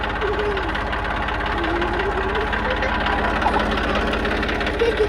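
A tractor engine runs with a rotavator coupled behind it, its steady low chugging throb close and continuous while someone talks over it.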